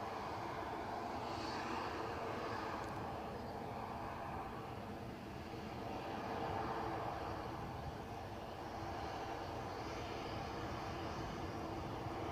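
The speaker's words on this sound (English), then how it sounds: "So this is the Dublin departure, just lining itself up." Airliner on the Dublin departure lining up on the runway at Edinburgh airport, a faint, distant steady engine rumble and whine that swells slightly and fades, heard alone.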